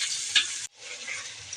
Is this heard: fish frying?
yes